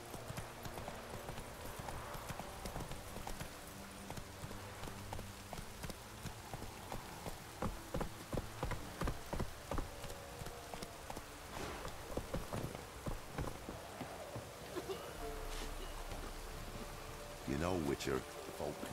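Roach, the horse in the video game The Witcher 3: Wild Hunt, trotting with a steady clip-clop of hooves over a continuous hiss of rain, close and rhythmic for the whole stretch, with a brief voice speaking briefly.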